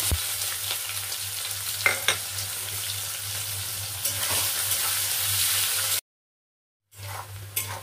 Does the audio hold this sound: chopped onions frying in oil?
yes